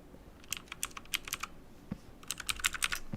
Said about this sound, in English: I like using the arrow keys, so sorry that that's a little loud